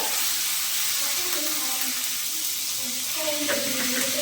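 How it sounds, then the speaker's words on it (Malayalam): Squid dropped into well-heated oil in a pan with curry leaves for a Kerala-style squid roast, giving a steady close sizzle and crackle that rises briefly near the end. "ഇനി നമുക്ക് കണവ അതിലേക്ക് ഇട്ട് കൊടുക്കാം. എണ്ണ നന്നായിട്ട് ചൂടായിട്ടുണ്ട്."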